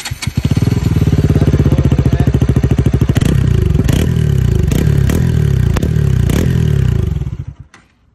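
Motorcycle with a cheap modified exhaust, close up, idling with a rapid even putter, then blipped several times into sharp high-RPM revs before the engine cuts off. No speech is heard.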